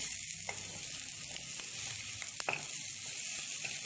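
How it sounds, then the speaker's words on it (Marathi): Tomato and onion with asafoetida sauté in a pan for a green pigeon pea curry, giving a continuous loud sizzle punctuated by a few light stirring clicks. "आणि आता याच्यामध्ये थोडंसं टोमॅटो घालूया छानपैकी आणि हे मस्त आपण परतून घेणार आहोत"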